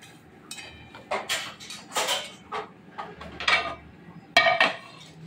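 A cooked paneer and vegetable mixture scooped from a pan onto a plate, with a series of clinks and scrapes of a metal spoon against cookware, close and alone.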